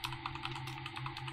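Fingers tap rapidly on a computer keyboard, a quick close run of light key clicks over a faint background hum.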